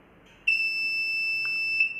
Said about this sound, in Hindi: ये देखिए जब मैं इसको क्लॉकवाइज घुमाऊंगा तो ये एक पोजीशन पे जाके बीप होगा।